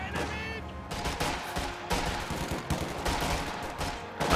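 Gunfire from the video game Company of Heroes 2: repeated bursts of machine gun fire and sharper sniper shots crackle in quick succession at moderate volume, with no talk over them.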